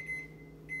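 Two short electronic beeps from a microwave oven heating cream cheese in a kitchen, one near the start and one near the end, over a steady low hum.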